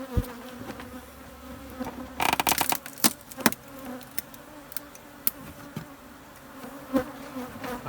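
Honeybees buzzing around a hive being pulled apart, with a board bringing down old comb; a steady insect drone with knocks and thuds from handling the wood, close and fairly loud.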